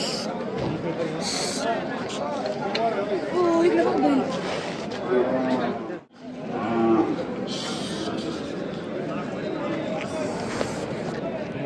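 Calves and cattle at the Chakan bull market, with repeated nearby moos over a busy crowd murmur and people talking close by.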